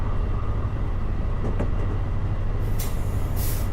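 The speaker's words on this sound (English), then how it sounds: "It is a diesel loco, Emmanuel Perez, a diesel electric." An Amtrak Pacific Surfliner diesel-electric locomotive train passing, a loud, continuous low rumble with brief higher hissing and clattering bursts near the end.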